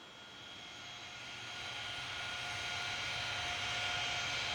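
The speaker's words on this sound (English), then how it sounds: "The Dreamliner, very nice." A Boeing 787 Dreamliner jet passes at Copenhagen airport in the airport game Tower! Simulator 3, making a steady broadband engine roar that grows slightly louder throughout, with no voices.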